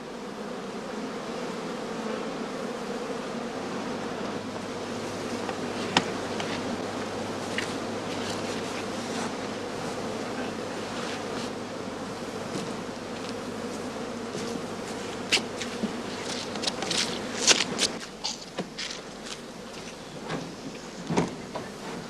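Bees buzzing steadily around heather skeps in an autumn apiary, a dense continuous hum from many insects close by, with occasional louder passes and light clicks, no talking.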